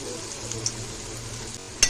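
Okra bhaji mixed with peanut powder is stirred in a hot pan, a soft, steady sizzle with scraping under it and a sharp spoon clink near the end, close up.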